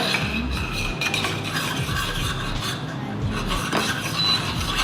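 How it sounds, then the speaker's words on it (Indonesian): Coconut milk sauce with palm sugar being stirred in a pan over heat, a steady scraping and rubbing of utensil against the pan with faint sizzle, continuous and close for about five seconds without talk. "Diaduk-aduk supaya si santannya nggak pecah."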